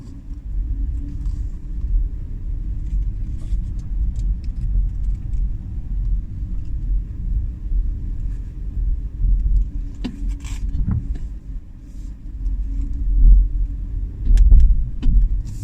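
An electric Mini Cooper SE drives along a road, giving a steady low rumble of tyres and road noise with no engine note. Faint clicks and jangles break in near the end.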